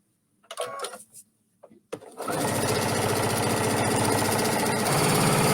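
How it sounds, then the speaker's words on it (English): Sewing machine stitching fabric, a few soft handling bumps and brief starts, then a steady loud rapid whirring hum running continuously close by. "So make sure that you sew 1/4 inch all the way around."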